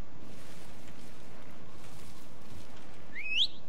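Near the end, a single short rising-and-falling whistle calls a horse in Assassin's Creed III, clear above a steady low outdoor ambience.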